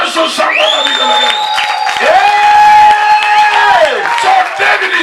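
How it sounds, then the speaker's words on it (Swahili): A church congregation at a revival service cheers and ululates loudly, a sustained crowd roar with high wavering trilling voices rising over it throughout. "Pigia Yesu shangwe na vigelegele."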